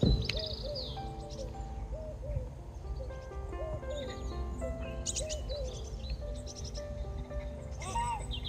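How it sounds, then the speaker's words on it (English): Birds sing and chirp on a calm morning beside a Lincolnshire drain, with repeated clear whistled phrases from a few birds at moderate distance over a low outdoor background. "birds are singing."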